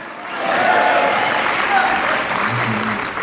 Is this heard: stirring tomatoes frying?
no